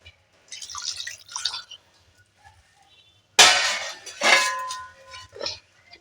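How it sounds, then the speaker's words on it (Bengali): Water is poured in a small amount into a cooking pot holding spinach, cauliflower, potato and fish, heard as short splashing trickles with faint clinks, close by and separated by quiet gaps. "আর একটু অল্প পরিমাণে জলটা আমি দিয়ে দেব"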